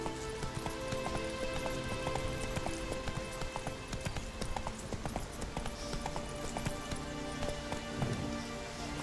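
Roach, a horse in The Witcher 3 video game, gallops with steady, rapid clip-clop hoofbeats over a constant bed of rain-like patter and game ambience, with no talk.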